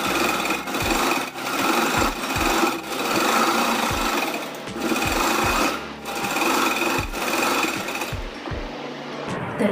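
A sewing machine stitches lace onto the side cut of a dress, running in close, loud bursts of rapid whirring with a rhythmic low thump, pausing briefly between runs.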